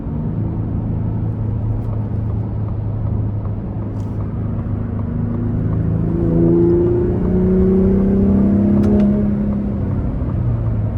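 A 2023 Ford F-150 Raptor pickup accelerates hard under full throttle, its engine note climbing in steady rising sweeps over a constant low road rumble, loud and close from inside the cab with no talk.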